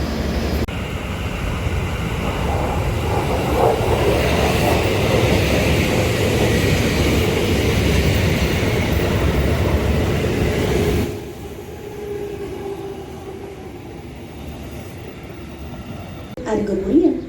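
The Argo Muria passenger train rumbles loudly past and gradually slows, the roar dropping away as it comes to a halt with quieter hissing and clanks afterward.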